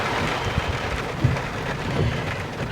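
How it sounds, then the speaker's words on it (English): Heavy rain pours down outside a store during a storm, a dense steady wash of noise with faint low rumbles, loud and close, with no voices. "I told you it was supposed to storm today, and it decided to do it right when I came out of the store"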